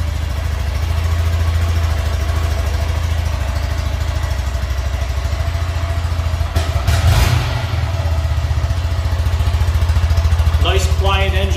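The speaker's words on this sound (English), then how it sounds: "Nice quiet engine. Engine's very quiet, you can't even hear it running." A 2023 Honda Grom 125 engine idles steadily with a low, quiet, even putter, briefly disturbed by a clatter midway and a chirp near the end.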